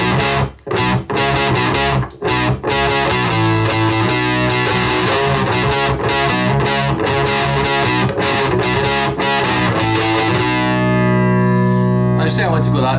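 A dense, distorted electric guitar with deep bass tones plays loudly and continuously, thick and amplified through a Red5 Audio powered PA speaker, ending on a sustained ringing chord.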